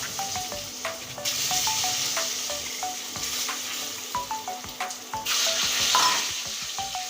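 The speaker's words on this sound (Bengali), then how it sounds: "সিদ্ধ করে রাখা ডিম ডিমটা আবার লবণ হলুদের ভিতরে ছেড়ে দিচ্ছি তেলের ভিতরে" Boiled eggs coated in salt and turmeric fry in hot oil, a steady close sizzle with a run of light clinking taps from a spatula stirring them in the pan.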